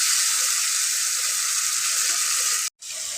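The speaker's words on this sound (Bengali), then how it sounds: "কুচুটাকে আমি এখন পেস্টের সাথে মিশিয়ে নিলাম।" Taro fries with spice paste in a pan, giving a steady, bright, close sizzle that drops out for a moment before the frying resumes.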